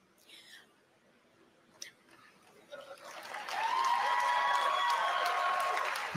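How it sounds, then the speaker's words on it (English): Sparse, forced clapping from an audience at a Canada Day speech, starting thin and swelling into a fuller round of applause by the final seconds. "Had to force a clap there."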